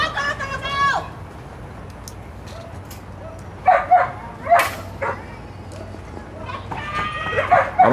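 Dogs at a dock diving competition let out several short, sharp barks and yelps in separate bursts, mixed with people talking and cheering nearby.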